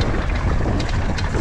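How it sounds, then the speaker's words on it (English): Breezy wind gusting across a bike park in Wales, a steady loud rush of buffeting air on the microphone with no talking. "It is a touch breezy today"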